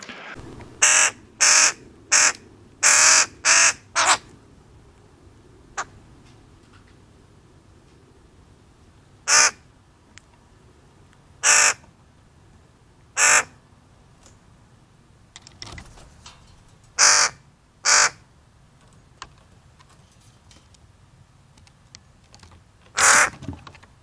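Crows caw outdoors as picked up by a Campark TC06 4K trail camera, a quick burst of loud harsh calls followed by scattered single caws at irregular intervals over quiet ambient background.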